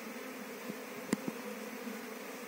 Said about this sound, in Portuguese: E eu tô aqui falando perto dessas abelhas.